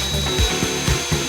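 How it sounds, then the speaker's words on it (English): A hand file rasps across a metal seatbelt holder bar on a BMW Z3 roll hoop install, giving about five close, rough back-and-forth strokes in an uneven rhythm. "I'm gonna use a file to try and give myself a little area to put the drill bit into"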